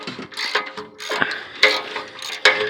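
Ratchet wrench working on 30-year-old exhaust bolts of a third-generation Chevrolet Camaro, a close series of uneven clicking bursts with short pauses between turns.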